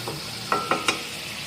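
Chicken is stirred and roasted in a karahi for black pepper chicken karahi, with a steady sizzle broken by three quick metallic spatula scrapes and clanks, close and clear with no talking.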